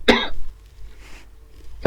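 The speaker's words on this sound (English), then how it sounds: "I've been coughing because I need surgery." A person with a long-running illness coughs once sharply and close, followed by a soft exhale, then a second cough starting at the end.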